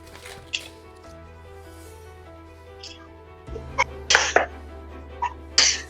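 A small, sharp sneeze stands out amid sporadic clicks and soft noises over a steady electronic hum, with faint sounds in between.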